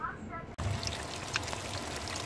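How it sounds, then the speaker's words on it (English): Water pours steadily over a pet bird taking a shower, a dense close hiss of spray that begins abruptly after a brief quiet moment and then runs on without a break. "having a little shower."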